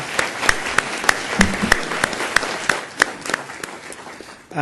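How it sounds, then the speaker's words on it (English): Board meeting audience applauding Mr. Buffkin: a small group clapping in a room, sharp individual claps in an irregular quick rhythm, fairly close, tapering off near the end. "Let's give Mr. Buffkin a big round of applause"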